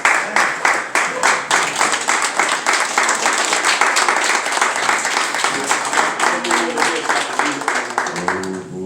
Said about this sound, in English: Let's receive him with a hand clap.